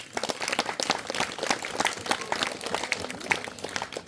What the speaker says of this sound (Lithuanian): Plojimai.